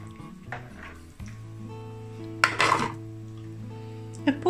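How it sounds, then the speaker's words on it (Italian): Utensils scrape and clink against a pot as Sicilian pork jelly with lemon and bitter orange juice is stirred, a few sharper knocks standing out over a low steady hum. "diamo una mescolata."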